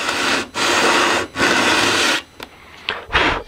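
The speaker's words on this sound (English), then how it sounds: "sand this thing flat and make it nice and smooth" Sandpaper rubs foam on a model T-50 jet missile in three long, loud rasping strokes, followed by a few shorter, quieter scuffs.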